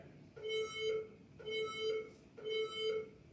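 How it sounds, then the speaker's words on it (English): An electronic workout timer buzzer sounds in three repeated bursts, each a pair of quick beeping tones, moderately loud over low background noise. "Work to the final buzzer."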